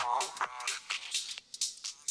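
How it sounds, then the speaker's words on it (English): Dance music through a Pioneer DJ FLX4 controller with its high-pass filter engaged: the bass and low end are stripped away, leaving thin, hissy hi-hats and bright fragments pulsing in short bursts, fairly quiet. "that's the high pass filter"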